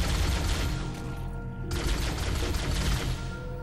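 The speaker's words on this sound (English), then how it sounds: "I'm just shooting." Weapons fire in the Halo: Combat Evolved video game, a fairly quiet burst of rapid shots and impacts layered over loud game ambience, with a brief lull before firing resumes.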